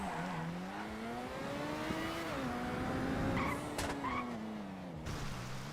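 In GTA 5, a car's engine drones on steadily while its locked-up brakes make the tires squeal and skid, loud and continuous throughout with no talking.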